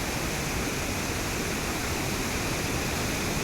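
A waterfall at Kapati Falls gives a steady, dense rushing roar of falling water, unbroken and fairly close throughout, with no voices.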